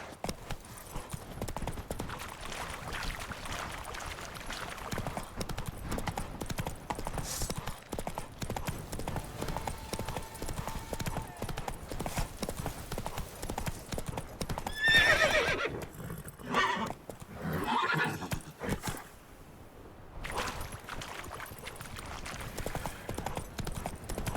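Roach the horse in The Witcher 3, galloping with rapid, continuous hoofbeats under gear and wind noise, with a neigh partway through as the pace briefly shifts.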